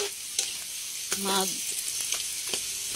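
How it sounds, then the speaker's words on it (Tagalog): Water spinach (kangkong) sautéing in a pan with a steady sizzle, broken by scraping stir strokes and a few clinks from a spatula, with no voice over it. "Gigisa tayo ng kangkong."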